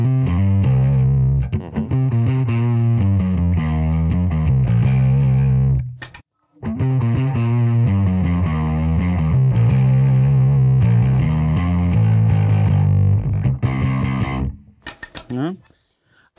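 Bass guitar through an overdrive distortion pedal, a loud, close run of gritty, thick bass notes and riffs that cuts out briefly midway and then resumes before ending in a few scattered plucks.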